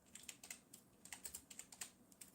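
Rapid, quiet keystrokes on a computer keyboard come in a close, irregular patter of light clicks, with a few brief pauses between bursts of typing.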